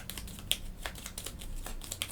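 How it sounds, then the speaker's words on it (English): Board game cards being shuffled, a run of quick soft riffling and flicking clicks with a few sharper snaps, close by with no talk. "I'll shuffle their deck up."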